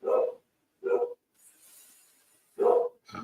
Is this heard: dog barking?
yes